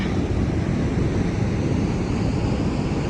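Water rushing out of a hydroelectric power plant outlet in the Himalayan highlands, a loud, dense, continuous roar with no break and no talk.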